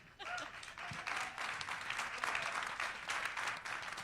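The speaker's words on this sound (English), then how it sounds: "Round of applause for Sandra." Audience applause at a town hall meeting, starting quiet then swelling into a steady round of clapping that holds for several seconds, with a few voices mixed in.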